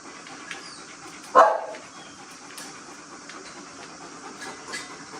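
Gunner, a boarded dog, lets out a single sharp bark over quiet indoor background hiss, with a few faint clicks and rustles around it.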